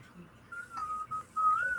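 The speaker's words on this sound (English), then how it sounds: "stop whistling" Someone whistles a short, wavering melody in a few brief phrases, fairly close and clear, over a quiet background during an online band class.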